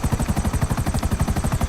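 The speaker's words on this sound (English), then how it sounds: "we got our CEO helicopter right here. I'm going to take it." A CEO Buzzard attack helicopter in the GTA 5 Online video game makes a loud, rapid chopping thrum of rotor blades. The pulses repeat steadily and up close, with no talk over them.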